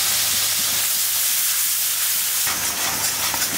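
Onion, green chili and spices sizzling as they fry in a pan, a steady broadband hiss that holds throughout, close and continuous with no talking.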